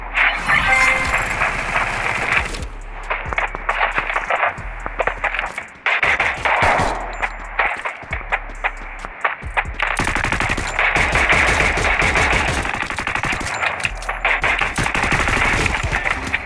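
Rapid M1014 shotgun fire in the Free Fire battle royale game comes in loud, dense volleys with brief pauses between bursts.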